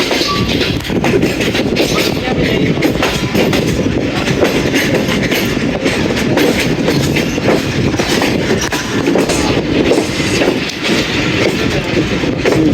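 A 101 Up railcar train runs loud and close on its approach to Rawalpindi station, a steady roar with rhythmic clickety-clack of wheels over rail joints throughout.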